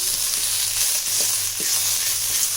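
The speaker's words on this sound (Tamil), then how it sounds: "ரெண்டு கைப்பிடி கருவேப்பிலையை இதிலே வறுக்கலாம்" Two handfuls of curry leaves frying on a low flame for a curry leaf and garlic kuzhambu, producing a loud continuous sizzle with a few short stirring knocks against the pan.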